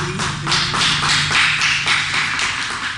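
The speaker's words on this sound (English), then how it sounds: "let's just give him another round of applause" Audience applauding after an empowering speech at an entrepreneurs' gathering, a steady run of claps with a fairly regular pulse filling the room, moderately loud and without talk.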